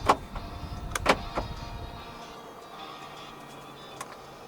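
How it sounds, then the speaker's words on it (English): Power folding side mirrors on a 2024 Proton S70 1.5T Flagship X fold in: faint electric motor whirs heard from inside the cabin, with a few soft clicks and thumps at the start, then a quiet hum. "To fold the side mirrors in from the inside, twist this knob to the top."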